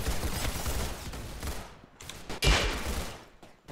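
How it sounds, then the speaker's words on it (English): Rapid, dense gunfire from the Roblox shooter game Arsenal rattles continuously and loudly, broken by short gaps and a heavier burst midway. "They shot through the wall?"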